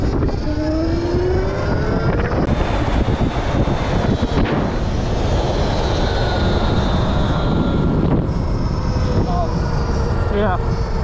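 Zero SR/F electric motorcycle accelerating at speed: a continuous loud rush of wind and road noise with a faint rising electric whine. No pauses across the whole stretch.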